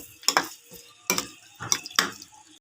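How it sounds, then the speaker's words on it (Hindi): Beef fries in ghee while a spoon stirs it in a pan, giving four distinct scraping, sizzling strokes at an uneven rhythm, close up with no talk. "फ्राई देखिए हम कर रहे हैं घी के साथ।"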